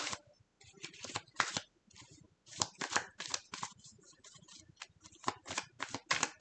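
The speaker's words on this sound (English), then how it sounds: "I'm going to shuffle these" Tarot cards are shuffled close to the microphone in repeated crisp riffling bursts, sharp fluttering snaps separated by short pauses, loud and alone.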